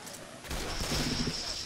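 Gunfire in the zombie shooter Left 4 Dead 2 crackles as a brief burst of rapid shots that starts about halfway through, fairly loud and dense, with a faint voice nearby.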